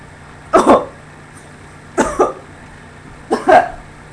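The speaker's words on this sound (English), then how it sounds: "Oh, I just had to cough." Three separate coughs, spaced about a second and a half apart, each a short double burst, close and fairly loud over a faint steady background hum.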